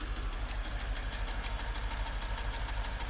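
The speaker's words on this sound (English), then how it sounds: "we had a weird sound in the engine, and turns out it was a broken spring" Mercedes-AMG engine with a broken valve spring idling, a steady fast metallic knocking ticking over a low rumble, close and continuous throughout.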